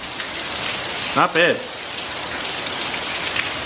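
Heavy rain from Hurricane Irma pours down in St. Cloud, Florida, a steady close hiss throughout, with a person speaking briefly over it.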